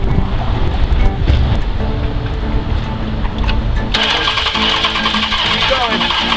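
A hydrolocked engine is cranked in another attempt to start, giving a loud, continuous churning mechanical drone that shifts in tone partway through, with voices mixed into the noise.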